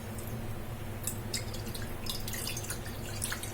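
Water from a one-cup measure poured into a pan on a stovetop, cooking with semolina, heard as faint intermittent dripping and trickling over a steady low hum with no talking.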